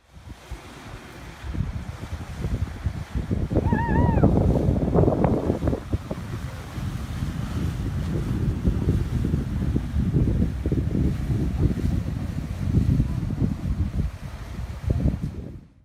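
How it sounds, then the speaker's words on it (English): A tidal bore surging up a river near Moncton, New Brunswick, a broad steady roar of rushing water and wind noise that swells early and holds, with a brief faint tonal call partway through. "When those conditions are met, a tidal bore can form, like it often does in Moncton, New Brunswick."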